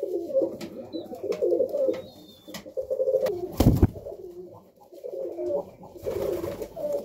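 Serbian highflyer pigeons coo in repeated low throaty bursts close by, with a brief flutter and some faint clicks between calls.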